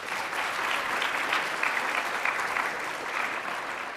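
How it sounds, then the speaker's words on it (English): Audience at an interfaith leadership summit plenary gives a sustained round of applause, dense even clapping from a large room, steady and uninterrupted for several seconds. "Let's give them a round of applause."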